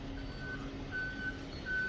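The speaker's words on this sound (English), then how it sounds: "listening to lorries reversing around corners" Lorries reversing around corners on an industrial estate beside a works car park, their reversing beepers sounding as faint, distant repeated tones over a low steady rumble.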